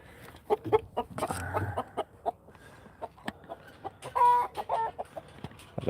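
A rooster perched close by on a farm gives a run of clucks and short throaty calls, spaced irregularly with a few louder bursts, with no one talking.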